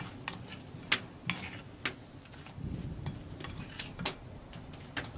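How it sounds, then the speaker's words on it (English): A utensil stirs turmeric, peppers and onions in a pan, giving scattered scraping clicks over a faint sizzle in a quiet outdoor cooking setting. "I'm gonna stir that around a little bit."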